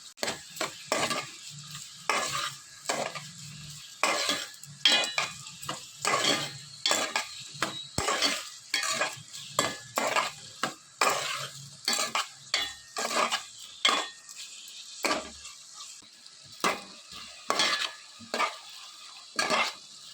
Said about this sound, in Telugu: ఇవన్నీ వేసుకుని ఆనియన్స్ అన్నీ కూడా బాగా మగ్గేంత వరకు వేసుకోవాలి